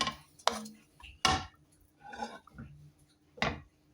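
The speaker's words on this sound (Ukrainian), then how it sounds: "розігріємо сковороду і потрошки наливаємо" Clattering of a plate and utensils against a frying pan as batter is poured in, a few sharp clinks and scrapes spaced apart, close by with brief quiet gaps.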